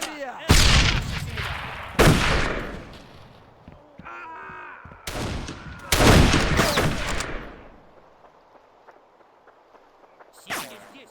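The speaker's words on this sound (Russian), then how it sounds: "Артиллерия!" Artillery and gunfire from a battlefield in the video game Darkest of Days: several loud, sharp blasts a second or two apart, each with a long rumbling tail, and faint chatter between them.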